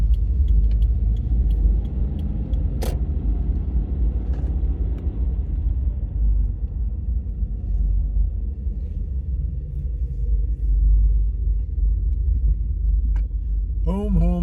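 Subaru car reversing up to a house on a circle driveway, a close, steady low engine rumble with a few light clicks and jingles, continuous throughout with a brief voice at the end.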